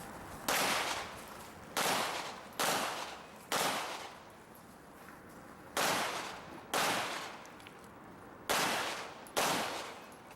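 Pistol shots ring out at an IDPA shooting match outdoors, eight loud sharp reports with echoing tails, fired in uneven pairs and singles with a longer pause midway.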